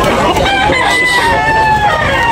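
A rooster crows loudly and close by, a long drawn-out call over steady busy background noise, with other birds faintly audible, at a gamecock market in Tabunok, Talisay, Cebu.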